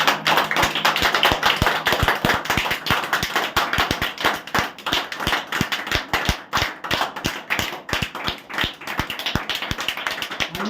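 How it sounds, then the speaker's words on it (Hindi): A church worship congregation clapping loudly in unison, fast regular claps filling a large room for the whole stretch with no talking. "एक बार प्रभु यीशु मसीह के लिए, खुदावन पाक रूह के लिए इससे और लाउडली ताली बजाइए।"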